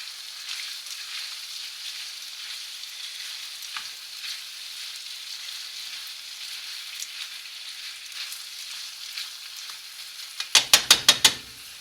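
A Costco oriental stir fry sizzles steadily in a pan while being mixed, a constant close hiss with small scraping touches, ending in a quick series of sharp clacks.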